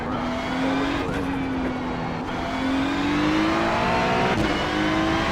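A Ferrari GT3 race car at Laguna Seca in iRacing, its engine droning steadily at close range and climbing in pitch as it accelerates, with brief shifts in tone along the way; no talk.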